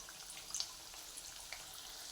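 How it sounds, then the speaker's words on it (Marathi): Kohala bonda, traditional pumpkin fritters, frying in hot oil give a steady close hiss with scattered small pops and crackles. "आता सर्व पकोडे मी हे कवड्याचे बोंड तळून घेते आहे"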